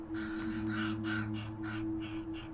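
A raven calls repeatedly, about six or seven harsh croaking caws in a steady rhythm, loud and close over a low steady hum.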